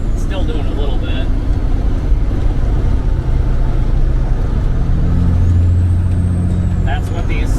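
A Peterbilt truck engine idles during a pre-purchase inspection, a loud, steady low diesel rumble that runs throughout while people talk over it.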